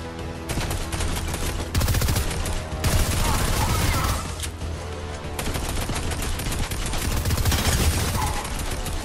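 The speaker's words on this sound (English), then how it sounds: "I'll just use the SMG." Rapid-fire SMG gunfire in a shooter video game comes as loud, dense bursts of automatic shots broken by short pauses. A voice talks over part of the shooting.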